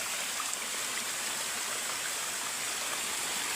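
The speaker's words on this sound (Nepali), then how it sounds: "यो चाहिँ खोला" A hillside stream flows in a steady, unbroken rush of water, fairly close and even in level throughout, with no voices or other sounds.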